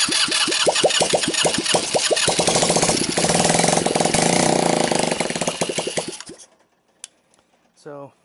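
Kasea buggy with a damaged-case GY6 motor cranking and catching, giving a rapid rising chatter that settles into a loud, steady running roar before cutting out abruptly, followed by near silence and a brief voice.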